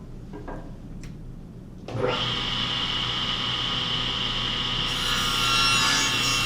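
A table saw cuts through a wooden board: quiet handling at first, then the blade bites in with a sudden loud whine and rasping that carries steadily to the end.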